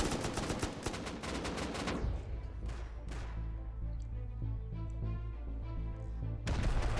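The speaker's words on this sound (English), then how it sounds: "Plenty of gunfire exchanging from Sin down to the breach" Gunfire from a raid in the video game Rust: rapid automatic bursts crackle densely at first, then scattered single shots and distant booms echo, and another dense volley follows at the end.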